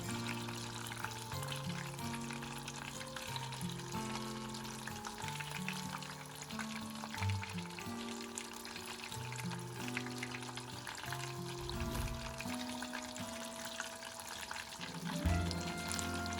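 Vietnamese spring rolls bubble and sizzle in hot oil, a steady dense frying hiss that runs without a break, with a few louder splashes and clinks near the end as the rolls are turned.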